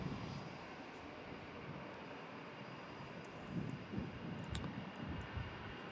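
An easyJet Airbus A319 jet airliner taking off at Manchester Airport, a distant steady engine roar that swells slightly, heard alone with no talk.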